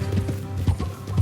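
Horse hooves clip-clop in Red Dead Redemption 2 as a tired horse plods along, with three or four close, steady hoofbeats in a loose rhythm and no talk.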